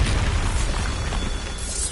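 A loud, dense Bombarda spell explosion in Hogwarts Legacy, a sustained booming blast with rumbling burst noise filling the whole moment, no voices over it.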